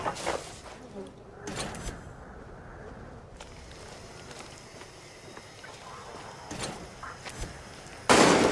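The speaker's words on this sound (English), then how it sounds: "Who's shooting?" Gunshots in the video game Far Cry 6, a few sharp, scattered cracks at irregular intervals, one louder close shot at the end, set against a dull ambient background with a voice speaking in between.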